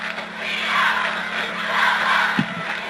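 Crowd roaring and cheering at a 1988 high school football game between Charleston High School and Stonewall Jackson, a loud, sustained wash of many voices with a steady hum beneath.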